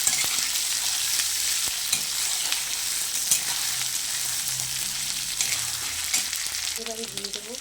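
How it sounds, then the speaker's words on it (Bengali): Potato and eggplant frying with ginger-garlic paste in hot oil for a vegetarian pumpkin and Malabar spinach dish, a continuous near sizzle broken by scattered clicks of stirring against the pan, with no voices. "আলু, বেগুন সেগুলোর সঙ্গে আদা রসুনটা ভালো করে একটু ভাজা ভাজা করে নেব"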